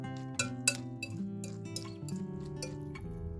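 A utensil clinking against a dish while chopped beef ham is mixed into pasta, a quick run of bright metallic taps in an irregular rhythm, close and fairly quiet over a soft musical background.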